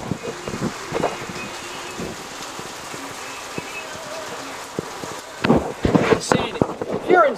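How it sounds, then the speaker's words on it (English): Heavy rain falls outside as a dense hiss dotted with sharp drop impacts, building into louder, harder bursts of drumming near the end. "It is raining so freaking hard outside"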